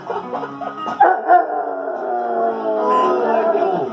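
A newly rescued deaf hound dog howls and yips along to a song, with short whimpering yips first and then a long, wavering howl held close to the microphone.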